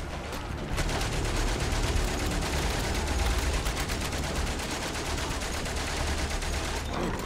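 Dense, continuous World War I gunfire and machine-gun bursts in the video game Valiant Hearts: The Great War, a loud unbroken fusillade filling the whole stretch.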